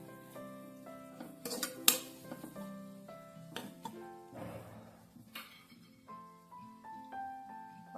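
Coriander is lightly sautéed in a pan for arisi paruppu sadam, with soft sizzling under clinks and scrapes of a metal spoon against the vessel, close and fairly quiet.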